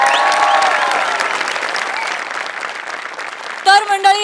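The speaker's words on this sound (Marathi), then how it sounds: "एकदा जोरदार टाळ्या झाल्या पाहिजेत" An audience at a Marathi comedy show applauds steadily, with dense, sustained clapping close up, before a brief musical sting enters near the end.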